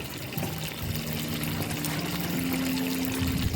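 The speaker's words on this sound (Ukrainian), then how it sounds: "І на цьому етапі підливаємо трішечки водички" Water poured into a frying pan of potatoes, a continuous close splashing pour with a rising tone as the pan fills, no talk over it.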